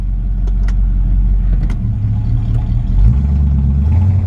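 A 1967 Mustang Coupe with a 302 V8 and automatic transmission drives along, its engine a steady, heavy low rumble that rises slightly in pitch partway through, heard from inside the car with no talking.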